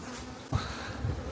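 Honeybees hum steadily while a beehive is split, making a dense, close, continuous buzz with small swells in loudness and no talking.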